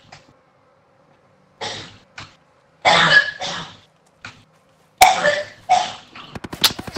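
Several short coughs from a character in the video game Ghost Recon Breakpoint, in separate bursts, some paired, with quiet gaps between them and a faint buzzing hum underneath.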